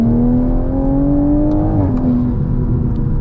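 A Toyota Supra MK5 sports car with turbo and aftermarket intake pulls steadily under load in third gear, its pitch rising smoothly as it accelerates, then dipping briefly at a shift, loud and close.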